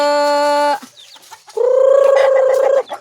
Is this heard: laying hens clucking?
yes